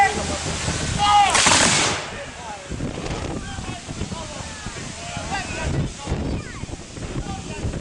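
Historical military reenactors at Falkland Palace in Fife, Scotland fire a musket volley: one sharp, loud burst followed by a ragged, fainter report, with shouted commands and wind buffeting the microphone throughout.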